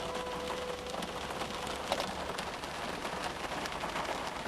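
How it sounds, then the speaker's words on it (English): Steady rain drums on a car during a drive, a dense, even hiss of drops on the roof and glass that continues unbroken throughout, with a faint brief tone near the start and no talking. "I hate driving in the rain."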